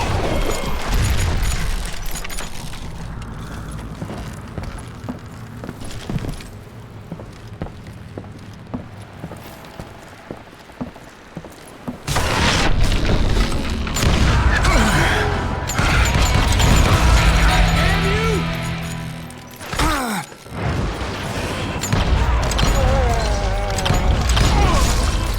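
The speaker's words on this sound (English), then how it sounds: "I noticed a footbridge tied up on high, so I shot the rope." In Call of Juarez Gunslinger, a rope is shot and a footbridge tied up high comes crashing down, heard as a heavy wooden crash and rumbling impacts amid game sounds, with people talking partway through.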